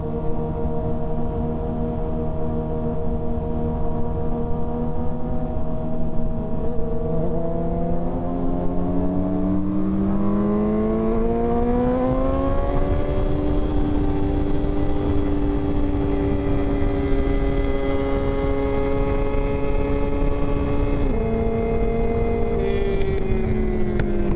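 Sport motorcycles, including a Hayabusa, BMW M1000RR and Yamaha R6, ride fast at night, a loud continuous engine whine rising in pitch through the gears under heavy wind roar, recorded from a moving bike.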